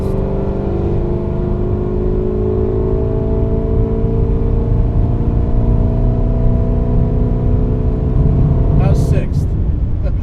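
A modified 550 WHP Chevrolet Camaro ZL1 accelerates in sixth gear, its loud, close engine drone climbing slowly and steadily in pitch from inside the car, with people talking over it.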